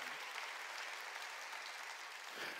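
A church congregation claps together in a sustained burst of applause, an even, moderately distant wash of hand claps that holds steady and swells slightly near the end.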